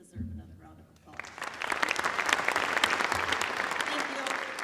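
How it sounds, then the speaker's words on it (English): Applause from a concert audience at an honor band performance swells and holds as a dense, steady wash after a brief spoken moment at the start. "I think they deserve another round of applause"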